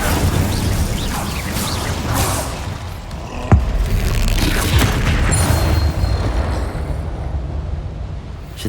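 A fire-spell explosion in the Hogwarts Legacy game: a sharp boom bursts out around the midpoint over a dense, roaring blend of game effects and rumble that carries on steadily throughout.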